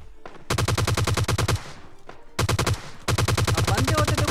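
Rapid automatic gunfire in PUBG Lite fires in loud, sustained bursts at close range, broken by a couple of short gaps before resuming, as an enemy is knocked down.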